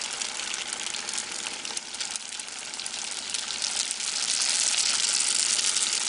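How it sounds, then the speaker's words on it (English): Spring rolls, about ten at a time, sizzle in hot frying oil with a loud, steady bubbling crackle close up that swells slightly toward the end. "You know it's good when it starts sizzling like that."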